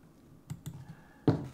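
Computer keyboard keys are pressed as Blender hotkeys, two light clicks close together followed by a louder, sharper keystroke, each heard alone and up close.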